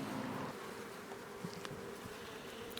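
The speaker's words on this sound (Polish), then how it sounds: "Widzę, że pszczoły przynoszą świeży pyłek." A steady, dense buzz of many bees at the hive fills the air, close and continuous, with occasional individual insects droning past.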